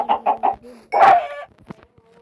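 A chicken gives three quick clucks, then a louder squawking burst and a few softer scattered clucks, close by with no talk over it.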